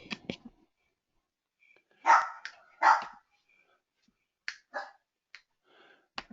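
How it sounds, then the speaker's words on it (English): Dogs barking indoors in a few short, loud bursts with quieter sharp yips between them; no one speaks. "Dogs, be quiet. No barking."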